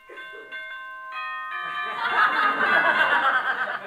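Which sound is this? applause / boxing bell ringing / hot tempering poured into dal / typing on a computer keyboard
boxing bell ringing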